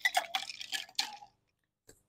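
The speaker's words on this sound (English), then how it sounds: "Now I'm throwing in some ice" Ice cubes tossed into a cocktail shaker while mixing a classic gimlet: a quick cluster of clattering, clinking hits for about a second, then silence and one faint final clink, close and fairly quiet.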